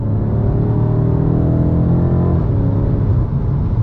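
BMW M5 engine pulling hard under acceleration while driving, a loud, continuous deep rumble with steady harmonic tone throughout, close and unbroken, with no talking.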